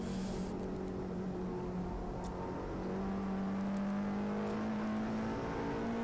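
A Peugeot 106 race car on track at Goodwood Motor Circuit, heard on board as a steady engine drone that gradually rises in pitch under load, with faint wind noise and no audible talk.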